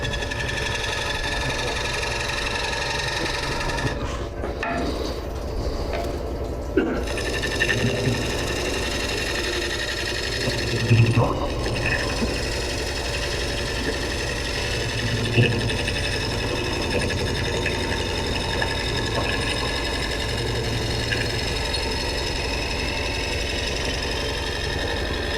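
A steady, close whirring drone as a coring tool cuts into a wooden bowl spinning on a lathe, with occasional knocks and brief scraping bursts.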